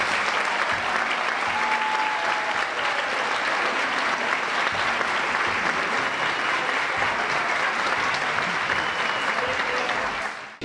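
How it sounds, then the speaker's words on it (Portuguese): Sustained loud applause from a standing crowd at the Copa Turing 2019 awards ceremony, dense and steady for about ten seconds, then cutting off abruptly at the end. "Mais uma salva de palmas, por favor, para eles."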